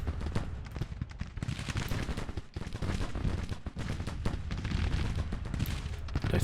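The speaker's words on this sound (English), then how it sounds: "You're bombarding. That's fine and dandy." Artillery bombardment and massed musket gunfire in Grand Tactician: The Civil War, a dense continuous crackle of overlapping shots and thuds with a few brief lulls, loud and without pause.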